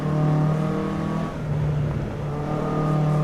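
Race car engine from the driving game Assetto Corsa EVO, a steady loud drone with sustained harmonics, dipping briefly mid-clip before holding again, with no voices over it.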